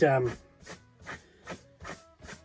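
A hand drill rasps through wood in regular strokes, about five evenly spaced grinding bursts, close and moderately quiet after a brief opening clatter.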